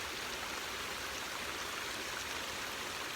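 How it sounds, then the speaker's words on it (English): Water pouring steadily down a flooded footpath through Silton Forest toward a reservoir, a continuous broad rushing wash like a stream, close and even throughout with no voices. "Can you hear that? Can you hear the water?"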